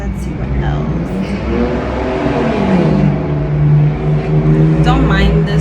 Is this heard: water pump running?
no